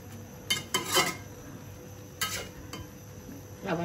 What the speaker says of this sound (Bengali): আবার আমি ঢাকা দিয়ে দিচ্ছি